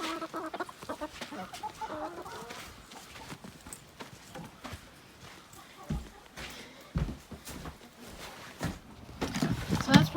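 Chickens cluck and a rooster calls around a farm barn during feeding time, the fowl sounds scattered and close amid footsteps and some background voices.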